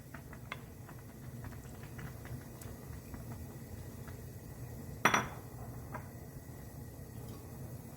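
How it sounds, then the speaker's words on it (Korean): A pot lid clanks once on the rim as mussels go into a garlicky soup, a sharp metallic clink over a steady low hiss of simmering, with faint light taps before and after. "뚜껑을 열고 여기 홍합을 다 넣어줍니다"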